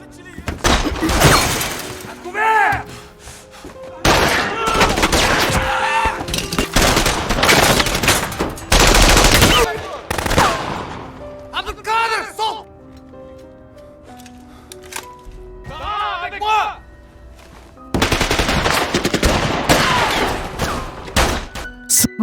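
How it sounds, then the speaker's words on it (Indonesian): Gunfire in a fierce night shootout between police and FLN fighters in a war-of-independence story, loud and dense with repeated bursts, shattering cracks and thuds, broken by short quieter gaps, with voices mixed in. "Polisi dan FLN kini benar-benar terlibat dalam baku tembak yang begitu sengit"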